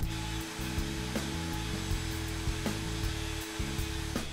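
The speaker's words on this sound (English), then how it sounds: "I start by using the router to drill a full depth hole at each end of the mortise." A router whines steadily while cutting mortises into a wooden bench leg held in a jig, the loud motor tone broken by short, regular plunges and cuts, close up with no talking.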